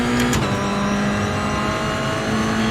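Toyota GR86 race car engine in the iRacing sim, droning loud and steady with a sustained tonal note that dips briefly then climbs again as power goes back on, alongside constant broadband engine and road roar.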